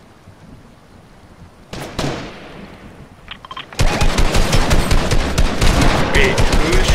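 Rapid automatic gunfire in a Fortnite squad match bursts in loud and dense after a single sharp shot, a sustained rattling volley that nearly drowns the players talking over it.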